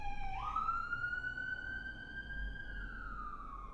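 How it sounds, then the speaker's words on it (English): Ambulance siren passing near an ambulance headquarters two blocks away, a single loud rising wail that sweeps up, holds, then slowly slides down as the vehicle goes by, over low traffic rumble. "We got an ambulance going by"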